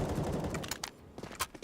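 Gunfire in the video game CS:GO during a tournament match, a burst of sharp shots followed by several separate cracks, fairly faint and distant in the game mix.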